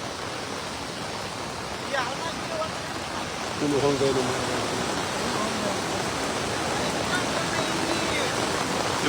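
Floodwater rushes loudly along a swollen town drainage channel in Loha, a dense steady roar close by, with a voice speaking briefly over it.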